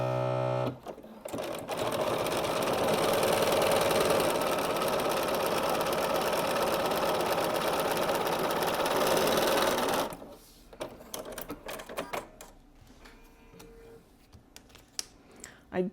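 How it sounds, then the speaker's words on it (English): Sewing machine running a top stitch at stitch length 3, a steady fast mechanical whir for about nine seconds, then stopping, followed by faint handling clicks and rustles. "And I change my stitch length to 3, and then I just top stitch"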